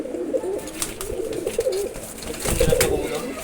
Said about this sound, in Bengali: একটা কবুতর